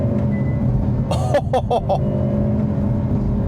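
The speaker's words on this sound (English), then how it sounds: "This has the proper bang backfire noises that I really want my sport compact to have." A 2025 Hyundai Elantra N with a manual gearbox fires a rapid string of four loud, sharp exhaust pops and backfire bangs over the steady drone of its engine.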